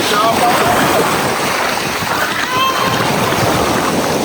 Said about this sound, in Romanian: Deci mergem să ne dăm cu jet ski-ul și vin valuri pe aici